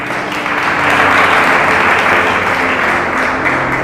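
A church congregation applauds together in a steady, dense wash of clapping that holds at an even level throughout, with no talk over it.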